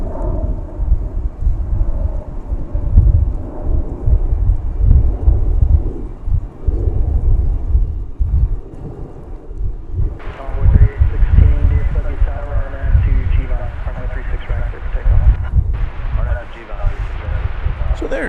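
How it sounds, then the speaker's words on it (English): An Airbus A340 jet airliner passes close by at DFW Airport, giving a deep, continuous roaring rumble that swells and persists under a person talking. "We get a pretty close look at the A340 then for you."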